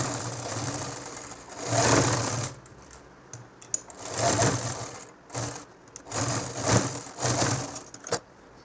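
Home sewing machine stitching a doubled, folded hem on a nightie, running in several short bursts of whirring needle clatter separated by brief pauses and a few sharp clicks.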